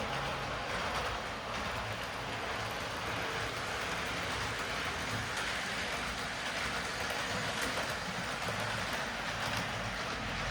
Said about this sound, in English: we've got 2 locomotives up and running